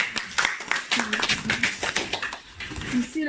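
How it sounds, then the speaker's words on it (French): Hands clapping in a church worship service, a few uneven claps mixed with singing or speaking voices, moderately loud and close. "Applaudissons le Seigneur."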